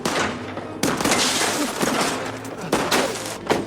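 Rapid, loud gunfire in The Last of Us, a dense string of shots with sharp repeated cracks and bursts, several louder blasts punctuating the sustained volley.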